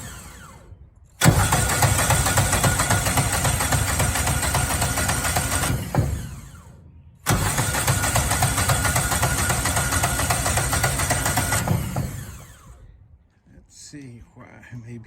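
A replacement engine on a Miller Bobcat 225 welder generator cranks and runs twice, each time a loud steady idle lasting several seconds before cutting out, with a voice speaking faintly near the end.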